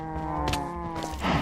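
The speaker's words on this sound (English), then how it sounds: "Let's jump over here and we'll go milk one of our cows." A cow in the Minecraft Direwolf20 1.12.2 mod pack gives a loud, sustained moo that carries strongly through the whole moment with nothing else over it.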